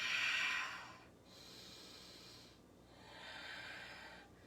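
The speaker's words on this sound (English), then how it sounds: "long, strong, powerful exhales all the way to emptiness" Slow, deep yogic breathing during a power yoga class in a wide-legged forward fold: a strong, breathy exhale up front, then two softer, drawn-out breaths, close and quiet with no talking.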